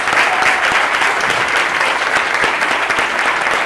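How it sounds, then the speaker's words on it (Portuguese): Strong, steady applause from an audience at a hypnosis lecture, dense continuous clapping at a constant loud level throughout, with no voices over it. "Eu quero uma salva de palmas muito forte para esse pessoal"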